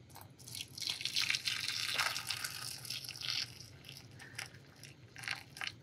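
Boiling water poured into a container to test a thermostat from a Toyota MR2 AW11 during a coolant flush: a steady close splashing pour for about three seconds, then tapering into scattered drips and small splashes, with no talking.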